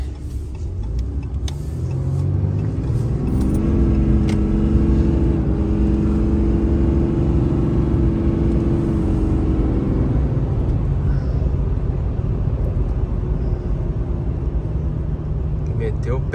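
An old car's engine is revved hard to clear out its filters, a loud, close rumble whose rising harmonic drone holds for several seconds before dropping back to a rough, steady idle.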